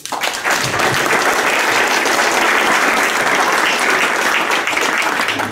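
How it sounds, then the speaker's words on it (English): Loud, sustained applause from a large crowd at a college women's basketball awards ceremony, dense clapping filling the whole stretch with no break. "Round of applause for the parents."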